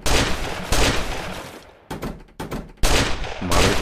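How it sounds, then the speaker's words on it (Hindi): Rapid bursts of gunfire from the Roblox survival puzzle obby Last Order, loud and close, with dense volleys broken by short gaps and a few separate shots before the firing resumes. "दो तीन गोली चलाना पड़ रहा है तब मर रहा है"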